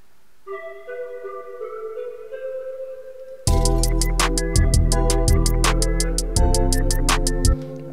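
A detuned synth with reverb and fruity chorus effects plays a soft, sustained melodic line, then a louder section of rhythmic chords with sharp percussive hits that runs to the end.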